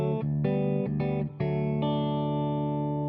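Fingerstyle guitar plays a short groove, ending on a high E, with a few quick plucked notes followed by a ringing held chord that slowly decays, clear and close.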